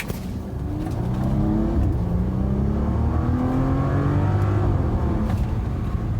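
A 2017 Bentley Bentayga W12 with 600 horsepower launches and accelerates hard, its smooth engine rising in a steady climbing drone with faint gear shifts, heard from inside the cabin and fairly muted.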